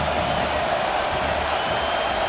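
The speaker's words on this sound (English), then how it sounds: "This crowd trying to make life miserable for this offense." Simulated stadium crowd noise from the College Football 25 video game during Washington versus Iowa, a loud, steady roar of cheering with no break.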